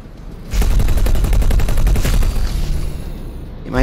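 A smart missile attack in the space game X4: Foundations bursts in as a loud, sustained barrage of rapid booming impacts and gunfire-like cracks that rolls on for several seconds before easing off.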